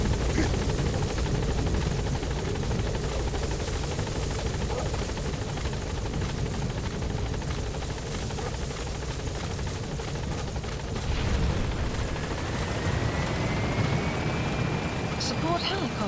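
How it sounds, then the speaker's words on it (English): In Metal Gear Solid V, a support helicopter arrives with a constant chopping rotor drone that fills the whole stretch, while voices talk over it. "Support helicopter has arrived."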